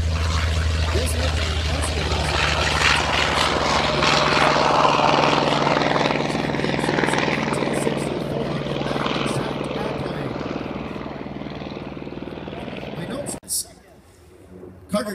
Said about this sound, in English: Another high-speed pass in the Bearcat.